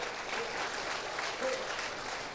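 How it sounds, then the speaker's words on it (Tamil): An audience claps at a Tamil comedy speech. The applause rolls on steadily and fairly loud, mixed with some voices and crowd murmur. "நல்லா கைத்தட்டுங்க சார் அந்த மனுஷனுக்கு"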